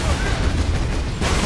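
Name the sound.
las cannon firing in Warhammer 40,000: Space Marine video game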